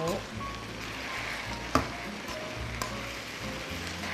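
Steady sizzling from a hot pan with a few sharp clinks of a utensil as Thai stir-fried noodles with scallions are stirred, close and continuous.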